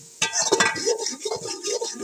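A spoon stirs and scrapes red chili powder into a cooking pot of aloo chana pulao, with repeated clinks and scraping strokes against the metal, close and fairly loud.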